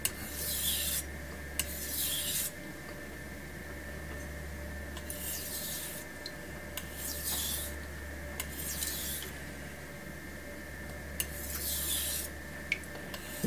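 A steel knife blade rasps back and forth across a Suehiro whetstone in steady, even strokes, close and fairly quiet, with no talking.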